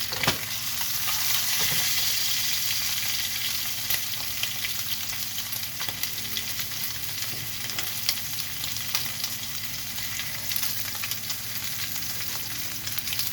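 Lamb chops fry in a pan with a constant, dense sizzle and crackle, close and fairly loud, with no voices.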